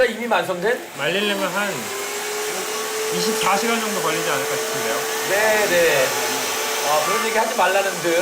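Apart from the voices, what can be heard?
blender running hard during a cooking battle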